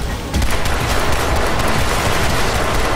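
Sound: pistol gunfire in video game Crysis 3

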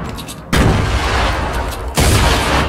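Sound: grenade explosion in the video game Fortnite

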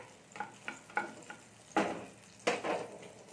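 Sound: butter melting and sizzling in a kadai

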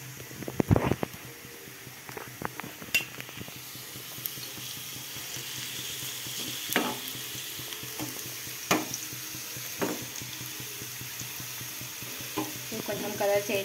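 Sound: frying ingredients for fish biryani in a pan

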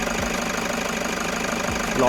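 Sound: pickup van engine idling

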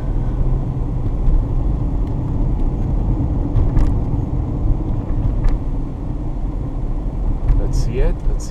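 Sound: car driving on road

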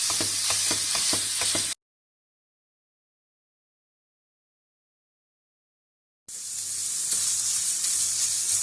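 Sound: ground meat frying in oil in a pan

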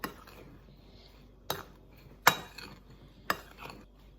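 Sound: stirring fruit filling with sugar and starch

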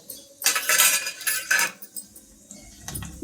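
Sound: stirring spices in a pan

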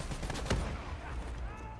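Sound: gunfire in Black Ops 3 video game

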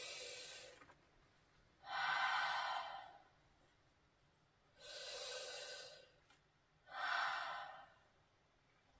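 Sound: breathing exercise

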